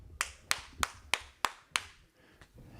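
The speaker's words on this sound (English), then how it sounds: "You got a round of applause" A few audience members at an open mic clap in six sharp, evenly spaced claps, close and fairly quiet, then trail off into soft room noise.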